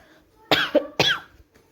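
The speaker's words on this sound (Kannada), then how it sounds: "ಒಂದು ಸ್ವಲ್ಪ ಕೆಮ್ಮು ಹತ್ತೈತಿ" Two sharp, close coughs from one person about half a second apart, each a short harsh burst, with quiet surroundings before and after.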